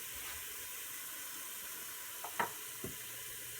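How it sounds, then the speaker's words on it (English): Carrots sautéing in about two tablespoons of butter in a pot give a soft, steady sizzle throughout, with a few brief clinks near the end. "we're just sauteing it off"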